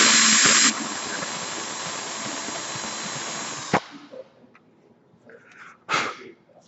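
A drill bores a nose hole into a wooden turned snowman, whining loudly and steadily for several seconds before cutting off abruptly, followed by a few quieter clatters and a brief burst of noise.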